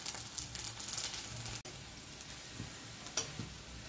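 Pieces of flour dough frying in a pan of oil give a soft, steady sizzle with faint crackles and an occasional stir, heard up close with no talking.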